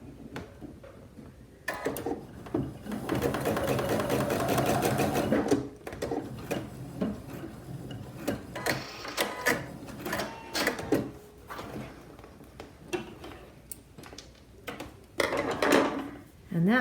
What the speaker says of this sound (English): I'm going to move back to the sewing machine so we can just finish this